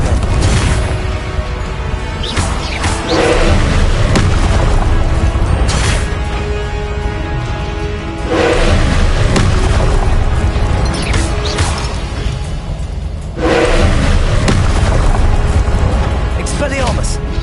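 Confringo blast spells from Hogwarts Legacy, a few heavy explosive bursts recurring every few seconds over a dense, loud game soundscape of rumble and clatter, with spoken voices heard among them.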